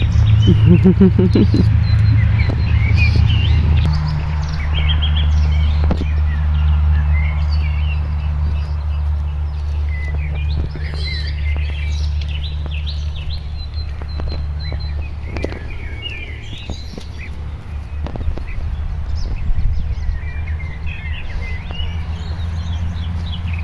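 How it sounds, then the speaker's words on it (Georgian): Scattered small birds chirp and tweet at a distance over a low, steady rumble, with occasional soft knocks in between. "რეალური ჩიტების ხმები"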